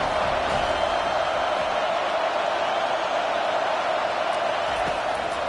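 Dense, steady roar of a large stadium crowd at an American football game, loud and continuous throughout, with no distinct cheers or voices standing out from the wash of noise.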